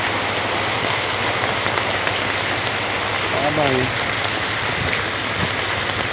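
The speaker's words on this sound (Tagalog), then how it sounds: "Wala pong tigil ang ulan." Heavy nonstop rain during flooding in a fishing community, a dense steady hiss of rainfall with a low hum beneath and a brief voice over it.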